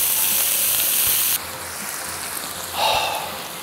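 Beef sears in a pot with onion, carrot and celery for a red wine stew. A loud, dense hiss fills the clip, dips slightly partway through, then swells again near the end.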